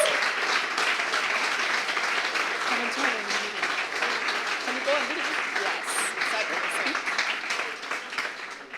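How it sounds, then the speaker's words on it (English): A crowd applauds steadily for several seconds, a dense wash of clapping that stays fairly even throughout. "Here's your applause."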